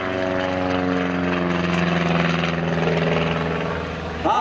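A Pitts biplane's propeller engine at the Oshkosh airshow drones steadily and fairly close, a buzzing, evenly pulsing note that holds for several seconds, then eases slightly at the end.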